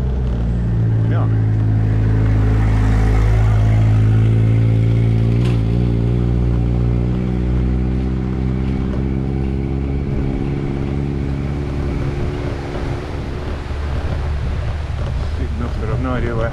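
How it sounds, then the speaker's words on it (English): Motorcycles pass along a steep mountain road, their engines droning and shifting in pitch over heavy wind rush on the microphone; a voice speaks over the noise. "Not a quad bike. Some motorcycles."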